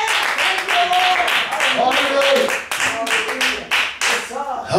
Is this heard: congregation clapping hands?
yes